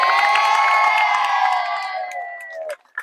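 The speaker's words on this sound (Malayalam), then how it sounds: "എല്ലാവരും നല്ലൊരു കയ്യടി കൊടുക്കുക" A crowd of high school students celebrates a hat-trick championship win, with a loud, sustained wash of cheering and shouting voices that fades out after nearly three seconds.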